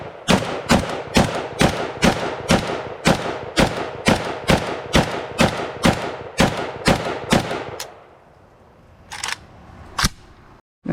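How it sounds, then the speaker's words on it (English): A Norinco 56S-2 AKS rifle fires about sixteen sharp, evenly spaced rounds at a shooting range in a steady semi-automatic rhythm, loud and close, followed by quieter pauses and two final isolated shots. "let's just take her out to the range and run a few rounds through it"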